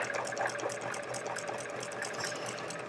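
A sewing machine stitching in the ditch along a seam of a hedgehog quilt runs in a quiet, steady, rapid mechanical chatter, with no voices.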